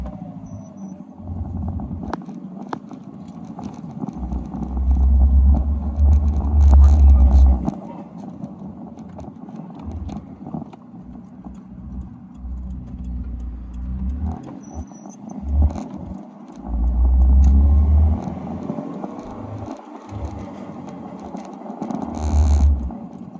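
A Toyota AE86 with a newly fitted exhaust idles and revs, its deep burbles swelling in a few loud bursts and then settling back, while people talk on and off between the revs.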